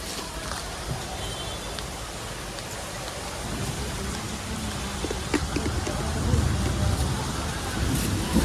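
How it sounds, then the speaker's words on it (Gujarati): Heavy rain pours during a storm in Surat, a dense close hiss and patter that grows louder midway, with faint thunder and occasional sharp drips on surfaces. "ચોક વરસાદ પડે છે."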